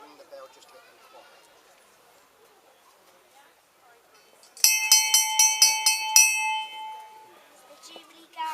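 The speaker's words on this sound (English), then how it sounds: "I'll ring the bell just to get them quiet." Handbell rung rapidly about seven times at an outdoor 2012 jubilee celebration in Henley-in-Arden, loud bright clangs ringing out over a chattering crowd and then fading as voices continue.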